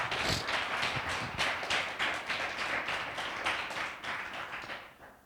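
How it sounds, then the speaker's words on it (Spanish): A church congregation gives a loud round of applause, with clapping that comes in rhythmic, pulsing bursts and fades near the end. "Dale un fuerte aplauso."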